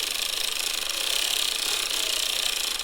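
A hand-cranked circular knitting machine turning steadily through a scarf, its needles and latches giving a continuous, dense mechanical clatter and ratcheting rattle, close and alone with no talk.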